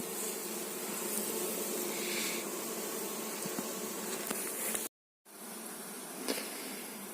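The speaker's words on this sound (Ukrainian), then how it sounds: "бджолам є дуже жарко вулику, дуже жарко і вони собі вилазять" Honeybees swarm and buzz outside an overheated hive in an apiary, a dense, continuous drone that stays close and steady with a brief gap near the end and no voices.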